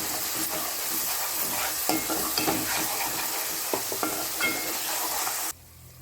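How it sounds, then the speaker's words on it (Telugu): Onions frying in oil for crab curry as cumin powder and turmeric are stirred in: a close, busy sizzle with scraping spoon strokes, cutting off abruptly near the end. "ఒక స్పూన్ జీలకర్ర పొడి కొద్దిగా పసుపు వేసి మంచిగా కలుపుకోవాలి"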